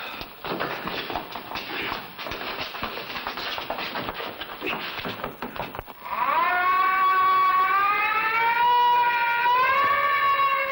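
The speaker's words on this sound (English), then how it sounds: "That's the alarm for a prison break." A loud wailing prison alarm siren rises and holds a steady tone after several seconds of clattering, shuffling noise.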